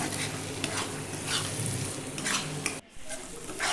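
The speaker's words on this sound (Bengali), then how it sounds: "এরপর আমি ক্যাপসিকাম টমেটো দিয়ে খানিক্ষণ নাড়াচাড়া করব" Spice paste with capsicum and tomato sizzles and fries in a pan for mutton curry, stirred with scraping strokes, steady and close, with a brief drop in sound near the end.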